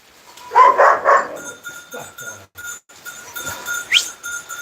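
A farm herd of about eight goats bleats close by in a few loud, uneven calls with rustling between them, and a sharper cry rises near the end.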